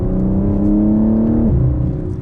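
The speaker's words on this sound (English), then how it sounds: "But with the exhaust valve open, it sounds so incredibly good." Close-up, a 2021–2023 BMW M4 Competition coupe's exhaust, valve open, holds a loud, steady high-pitched drone that drops sharply in pitch partway through, then settles lower.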